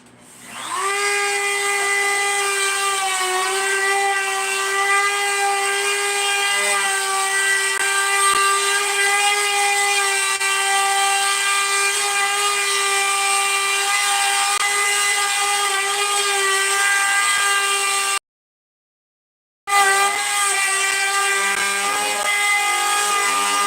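Small plunge-base wood router running at full speed, a loud, close, steady high-pitched whine that cuts out for about a second near the end and then spins back up.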